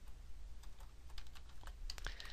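Typing on a computer keyboard gives a quick run of soft, close key clicks in an uneven rhythm, alone in a quiet room.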